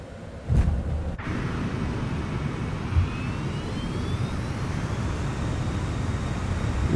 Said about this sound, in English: Reversers engaged.